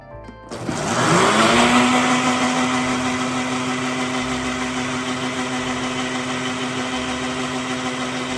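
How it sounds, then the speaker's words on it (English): An electric blender whirs up and runs steadily, blending coffee with butter; a loud, close motor hum that rises quickly at the start, then holds an even pitch to the end. "I'm gonna blend this coffee with the butter"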